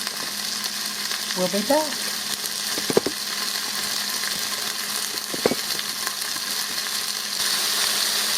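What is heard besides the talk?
sauteing vegetables in a pan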